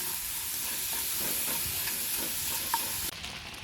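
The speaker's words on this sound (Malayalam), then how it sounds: "ശർക്കര മെൽറ്റ് ആവാനിതാ ഇളക്കിക്കൊണ്ടിരിക്കുകയാണ്" Jaggery is stirred in a pan until it melts while making mango laddu, with a steady loud sizzling hiss and faint scraping strokes throughout and no voices.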